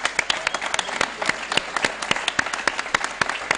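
Audience applause for the winner at an evening entrepreneurs' competition event, dense continuous clapping from a crowd with sharp individual claps throughout.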